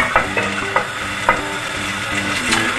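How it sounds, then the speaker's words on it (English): Onions frying in melted butter and oil for a butterbean risotto, a loud, close, continuous sizzle with a few soft stirring knocks of a spoon against the pan and no voices. "So melt down your butter with your oil and add your onions."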